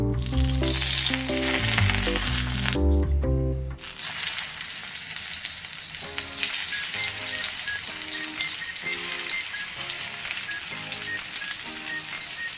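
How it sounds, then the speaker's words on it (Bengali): Bitter gourds fry in a kadai on low heat, a steady, close crackling sizzle that runs throughout, with a few sharp clatters of utensils near the start and no talking. "এবার এগুলোকে হালকা আঁচে কড়াইয়ে ভেজে নেব"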